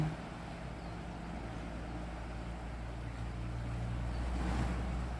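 Floodwater of the Mun River in Ubon Ratchathani rushing strongly in September 2022, a continuous low roaring wash that holds steady and swells slightly toward the end, close and unbroken with no voices.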